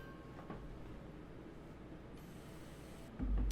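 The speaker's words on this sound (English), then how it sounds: "And well beyond the garden, a train passes." Faint rumble of a distant train rolling by, steady and low, with a louder thump near the end.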